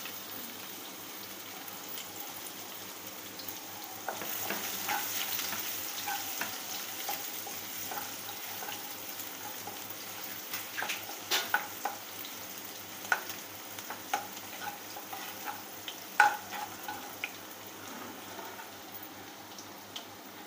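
Onions going into a pan of frying chicken for restaurant-style chicken 555, giving a low continuous sizzle with scattered crackles and pops that grow busier in the second half.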